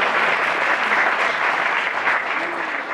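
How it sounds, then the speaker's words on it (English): Audience applause fills the room, a dense, steady clapping from a crowd that holds even for three seconds without letting up. "let's give him a round of applause"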